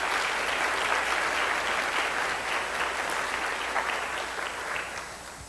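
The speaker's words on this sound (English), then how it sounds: "Let's give them a round of applause." Steady, dense audience applause fills a hall at a college state-of-the-college address, honoring standing foundation members, holding at an even loud level throughout before easing slightly near the end.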